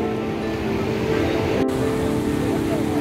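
Sea waves wash onto the sandy beach at Puri, Odisha, with small fishing boats nearby, a loud, continuous roar of surf filling the whole stretch, with no pause.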